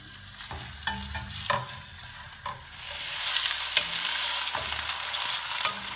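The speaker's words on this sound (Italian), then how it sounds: "Prima di metterla in forno, sigilliamo la carne." A stuffed turkey roast sears in oil in a pot before going into the oven, giving a steady frying sizzle that builds and stays loud, with occasional stirring knocks and scrapes, and no one talking.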